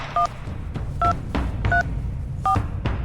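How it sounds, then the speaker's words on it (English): Telephone keypad tones from the video game Reverse: 1999, a set of separate dual-tone beeps pressed in an irregular rhythm over a low background hum. "Who are you dialing?"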